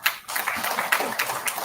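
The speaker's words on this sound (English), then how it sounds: "I expect all of you to give a big round of applause." Applause from an audience at a cinema, literature and culture event, a moderate, continuous patter of many hands clapping with no talk over it.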